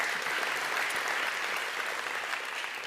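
An audience claps in steady, dense applause at a State of the City 2024 address, sustained for the whole stretch at even loudness, with no voices over it.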